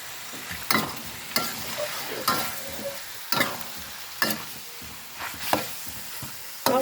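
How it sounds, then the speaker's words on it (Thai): A utensil scrapes and stirs through spicy chicken curry in a sizzling pan, with strokes roughly every second over a steady frying hiss. "รออีกสักครู่นะคะผัดไปเรื่อยๆค่ะ"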